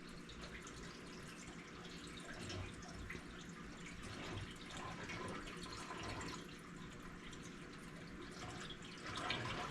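Water runs and splashes faintly into the radiator of a 1958 GMC pickup, a soft steady gurgling pour that swells slightly at moments, with no voices.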